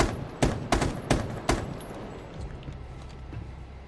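Gunfire in Rainbow Six Siege: a quick burst of about five sharp shots in an uneven rhythm, then a quiet rumbling tail with no talk.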